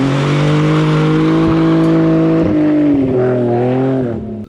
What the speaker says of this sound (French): comment la roue elle burne sur le bitume